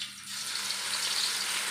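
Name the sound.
yam pieces frying in oil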